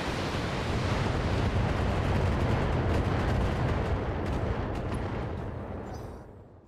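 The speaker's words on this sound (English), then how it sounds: "Grom is now going to go and spam all the missiles at this Warhammer." A missile barrage fired at a Warhammer mech in the game Battletech produces a dense, rumbling roar of explosions that holds loud and steady, then fades away over the last seconds.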